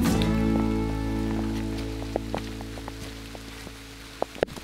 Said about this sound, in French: La pluie a redoublé d'intensité.